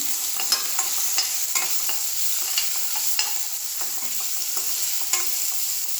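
Tomatoes with a pinch of salt frying in oil in a pan for ridge gourd palya, stirred with a spatula. A steady close sizzle runs throughout, with regular scraping strokes and no voices.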